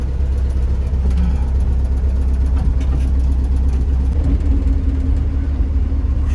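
Ford F600 truck motor fitted with a Chinese Holley carburetor, running steadily at idle with a loud, deep, even rumble heard up close and continuously.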